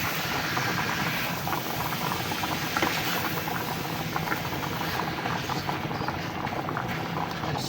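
Chicken gizzards cooking in a covered pot, a continuous bubbling, hissing boil at an even level with no speech.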